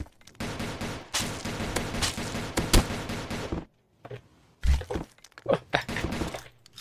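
Gunfire from the cartoonish first-person shooter Banana Shooter, heard as bursts of rapid shots with sharp transients, broken by a brief lull before more scattered shots and impacts.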